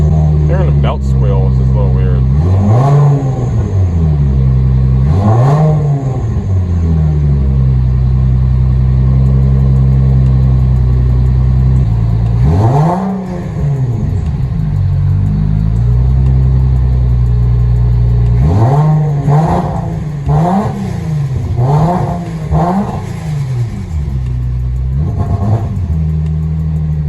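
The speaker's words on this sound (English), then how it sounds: "Hearing the belt squeal is just a little weird." Rear-mount turbo Nissan G35 engine revved repeatedly up close, several sharp climbing-and-falling revs spaced out and then a quick burst of blips near the end, with a belt squeal riding over the idle rumble.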